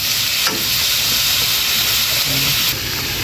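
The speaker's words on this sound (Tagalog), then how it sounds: "At saka pakuluin natin, takpan." Water boiling in a covered pot on a home stove, a steady loud hiss and bubbling rush that holds unbroken throughout, close by.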